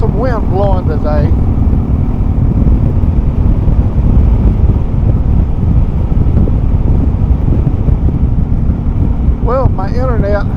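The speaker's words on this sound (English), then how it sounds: "There's some wind blowing today." Wind buffets an outdoor microphone in steady, loud rumbling gusts throughout, with a voice speaking briefly at the start and again near the end.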